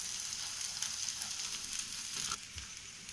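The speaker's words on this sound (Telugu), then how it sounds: "ఇంకా దీంట్లో మనం చికెన్ పీసెస్ వేసేసుకుందాం." Fried chicken pieces go into a hot pan for chicken chilly, making a steady, close frying sizzle with a brief shift in texture near the end. No one speaks.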